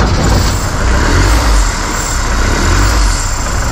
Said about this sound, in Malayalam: ഇനിയിപ്പോൾ നമ്മൾ ജസ്റ്റ് സ്റ്റാർട്ട് ചെയ്യാൻ പോകട്ടോ